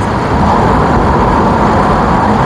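A BMW Z4 twin turbo accelerates uphill in fourth gear, a loud, dense and steady roar of engine and road noise throughout, close up with no talk.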